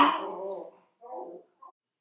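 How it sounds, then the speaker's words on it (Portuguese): Pet dogs bark indoors, first a loud ringing bark that trails off, then a shorter second bark and a brief high yip, with no one talking. "Meus cachorros latindo."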